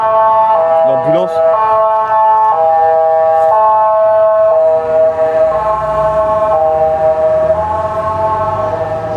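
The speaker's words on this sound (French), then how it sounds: "L'ambulance." An ambulance siren cycles loudly through a steady two-tone wail, alternating pitch about once a second for the whole stretch, with a faint hint of voice beneath it.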